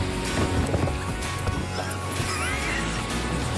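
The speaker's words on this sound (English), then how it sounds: "Big waves." Big waves slap against a small fishing boat, giving a loud, constant rush of water and wind with the hull rocking and creaking through it.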